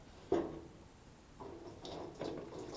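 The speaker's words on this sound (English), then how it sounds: "I'm pouring some back in to kind of stabilize it" Hot water poured into a water bottle for a DIY backpacker's shower, heard as a few short splashing gurgles: one sharp burst, then two softer pours, close and quiet.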